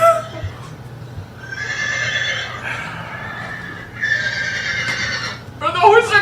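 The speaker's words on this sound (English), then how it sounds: "the horses are getting murdered!" Horses neigh in distress, several loud, drawn-out whinnies in a row with hoof clip-clop underneath, close and prominent during a tabletop role-playing game session.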